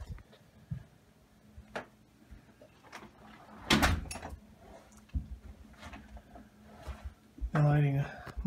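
A back side door of a house leading into the kitchen opens with a short clunk and rattle partway through, among footsteps and small handling noises, with a person talking nearby.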